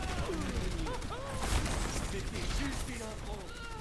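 Rapid gunfire from Bastion in Overwatch, a dense, continuous fusillade loud and close throughout, with high whistling and chirping effects layered over it and voices in the background.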